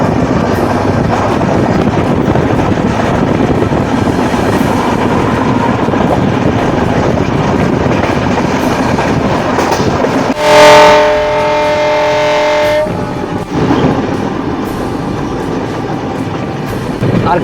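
Agartala to Kolkata Garib Rath Express train running, a steady loud rumble of wheels on rails throughout, with a brief brighter squealing, tonal passage midway before the rolling noise resumes.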